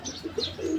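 A white racer pigeon chick in a cage at a fancy pigeon farm gives a short, soft series of thin cheeps and a low coo, close and brief.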